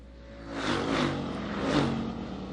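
Limited Sportsman race cars on an oval track roar past out of turn four toward the start-finish line, two loud engine surges rising and fading in quick succession with no voices.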